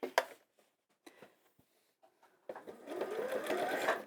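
A sewing machine stitches fabric after a few soft handling taps, running in a quick rhythmic burst near the end, close by and moderately loud.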